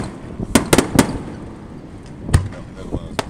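Fourth of July fireworks in 2011 burst in a quick cluster of sharp booms and crackles, then come a few more scattered reports, with echoes trailing behind each one.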